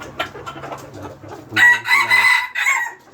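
A hen clucks and calls close by in a few short, throaty bursts, with a brief murmur of a voice at the start.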